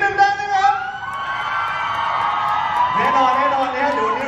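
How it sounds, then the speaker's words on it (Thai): Fans scream and cheer in a sustained, high-pitched crowd roar at a stage event for a Thai TV series launch, with layered shrieks and whoops that swell and hold steady. "ขอเสียงกรี๊ดนิดนึงได้ไหมครับ"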